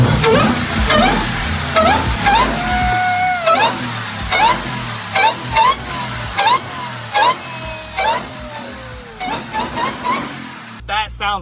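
A Ram TRX pickup with a Hellcat engine and a modified exhaust revs loudly and close, with a series of sharp throttle blips rising and falling in quick succession.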